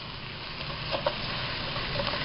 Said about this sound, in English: we're going to deglaze with our 1 cup of wine